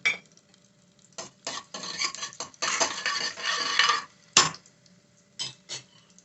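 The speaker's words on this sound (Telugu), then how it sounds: "వెల్లుల్లిపాయి, ఎండుమిర్చి వేసేస్తానండి" Garlic and dried red chillies crackle in hot tempering oil for a ridge gourd milk curry, with intermittent bursts of metal stirring and scraping against the pan and quiet pauses between.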